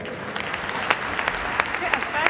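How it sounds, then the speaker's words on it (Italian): Scattered applause at a Christmas community event, sparse claps popping out over a low crowd murmur, with a few sharper nearby claps standing above a soft background. "un applauso agli organizzatori"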